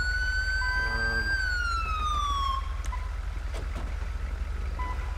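Ambulance siren in the police-patrol game mod GTA LSPDFR, a loud wailing tone that rises and then sweeps downward, followed by a quieter stretch with faint beeps over a low steady engine hum.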